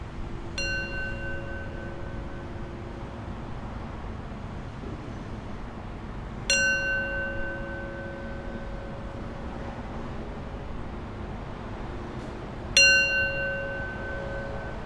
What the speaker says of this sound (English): And I'll close our practice with 3 rings of the bell.